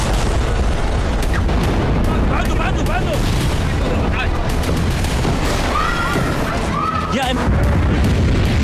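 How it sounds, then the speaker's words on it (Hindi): Heavy booms and blasts roll through a night-time Israeli strike on Lebanon, loud and continuous with rumbling low end, while a voice talks over them. "लेबनान का कोना कोना बारूदी प्रहार से थर्रा उठा"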